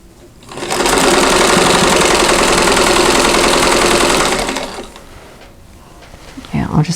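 Domestic sewing machine chain piecing quilt blocks, stitching in one steady, loud continuous run of about four seconds before stopping, followed by brief handling noises of fabric and the machine.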